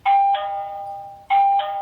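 Smart lock doorbell chime on a combined lock and security camera unit: two bright ding-dong tones close together, then a gap and the same pair again, loud and clean with no voices.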